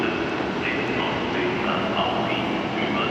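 Train at a German airport station platform, a loud continuous rumble and rushing roar of rolling railcars close by, with a steady hiss and no clear breaks.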